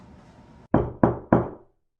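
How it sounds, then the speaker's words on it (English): Three sharp, evenly spaced knocks on a door ring out close and loud after a brief stretch of quiet room tone. "someone knocked on the door."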